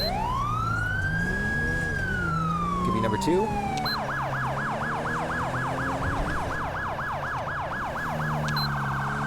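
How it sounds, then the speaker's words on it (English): A California Highway Patrol car's Westcom siren wails in one long rising and falling sweep, then switches to a rapid, steady yelp repeating many times; a voice speaks briefly. "I believe I have the CHP, it's like the Westcom siren."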